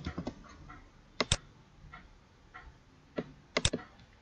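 Computer keyboard keys pressed in sparse, crisp clicks and taps at close range, several quick double presses with quiet pauses between them.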